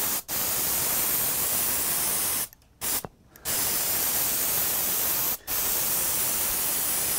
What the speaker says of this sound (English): I'm spraying this and then I have to let it dry before I turn it over